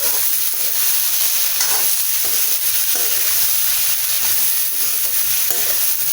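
Chopped taro stolons sizzle and fry steadily in a hot pan while being stirred, with scraping stir strokes over a continuous close, loud hiss.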